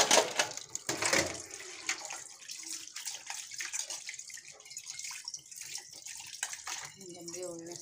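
Water runs from a tap while bowls are washed, with splashing and clinks at first, then a steady stream; a voice speaks faintly nearby.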